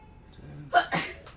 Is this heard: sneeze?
yes